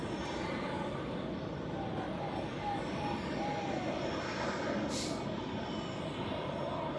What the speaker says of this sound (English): Etihad with an A321 LR coming to the southern side here.